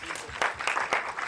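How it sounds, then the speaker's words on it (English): Audience at a short film preview applauding an actor, a short burst of dense clapping from a nearby crowd that swells and holds steady throughout. "Huge round of applause for the actor."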